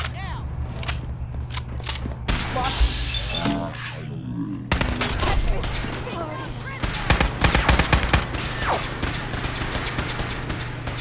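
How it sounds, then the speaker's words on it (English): Fully automatic gunfire in the game Fallout 4, with rapid bursts of loud, close shots crackling over a steady low game hum, broken by a short pause and a muffled mechanical passage. "There goes the fully automatic weapon."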